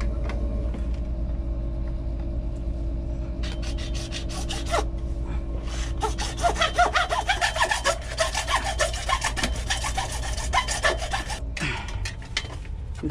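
A hand saw cuts through plastic pipe while a sump pump is replaced under a house floor, with a quiet hum at first, then a run of quick, rasping back-and-forth strokes up close that stop near the end.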